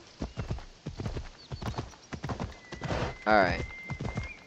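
A horse gallops in Assassin's Creed Odyssey, its hoofbeats a steady clip-clop rhythm running throughout, with a short whinny near the end and someone speaking briefly over it.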